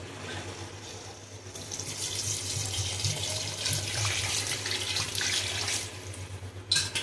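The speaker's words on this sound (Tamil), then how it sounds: "இப்போ வந்து 1 லிட்டர் தண்ணி வந்து நம்ம ஊத்திடுறோம்." A litre of water pours from a tap into a cooking pot while preparing mutton biryani, a continuous rushing splash that grows fuller as it fills, ending with a brief clatter.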